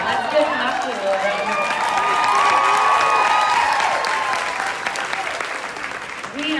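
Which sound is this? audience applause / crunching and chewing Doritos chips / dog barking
audience applause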